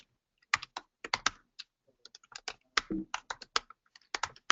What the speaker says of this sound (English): if this seems like a lot of typing